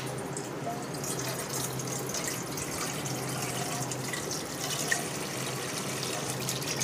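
Water pours into a water dispenser during cleaning, a steady splashing flow at moderate level over a low background hum.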